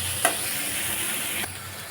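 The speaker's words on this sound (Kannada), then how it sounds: "ಇವಾಗ ಒಂದು ಟೊಮೆಟೊ ಕಟ್ ಮಾಡಿ ಇಟ್ಕೊಂಡಿದ್ದೀನಲ್ಲ, ಅದು ಹಾಕೋತೀನಿ. ಇದನ್ನು ಫ್ರೈ ಮಾಡ್ಕೊಳ್ತೀನಿ." Chopped tomato frying in a pan for a green gram curry, a continuous close hiss with two brief stirring scrapes, no voices.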